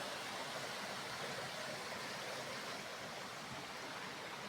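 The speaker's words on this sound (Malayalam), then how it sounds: "നല്ല അരുവിയാണ്." A forest stream in Munnar rushes steadily over its bed, a constant soft broadband wash of flowing water with no voices or breaks.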